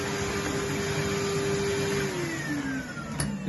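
A vacuum cleaner runs steadily while cleaning carpets, a loud continuous motor whine with a pitch that drops slightly near the end, alone without talk.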